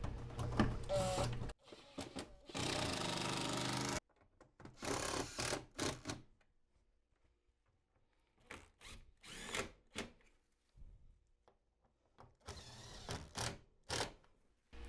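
Power drill driving screws to fasten an air-conditioner chassis into a wall sleeve, several separate whirring bursts with short gaps between them, close and clear, no talking.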